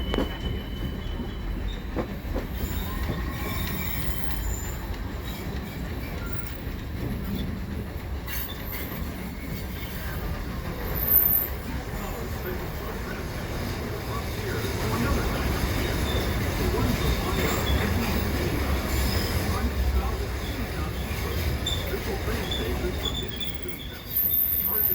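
A Disneyland Railroad train rumbles steadily along the tracks with wheels squealing and a continuous roar that swells in the second half, heard from on board.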